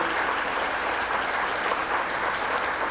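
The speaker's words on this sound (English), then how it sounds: "let's just clap for them" An audience at a school district event applauds its teachers, a dense and steady wash of clapping from many hands that holds at a constant level for the whole stretch, with no voices over it.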